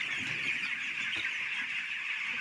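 Broiler chicks in a poultry shed give a dense, steady chorus of peeping that carries evenly throughout, with no voices.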